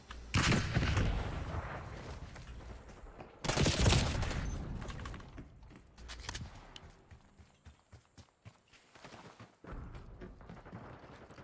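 Artillery barrage in the video game Call of Duty Black Ops 6: a heavy rumbling blast opens, a second loud burst follows near four seconds and another near six, then a patter of scattered cracks trails off.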